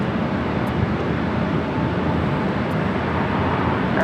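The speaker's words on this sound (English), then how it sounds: "All right, clear for takeoff, 24 left." Jet airliner taking off from runway 24 Left at LAX, a steady broadband engine roar that holds loud and even throughout, with no voices.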